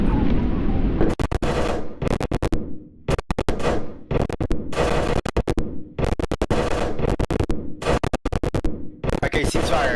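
Loud, rapid bursts of automatic gunfire in a Roblox game, fired in repeated volleys separated by short pauses.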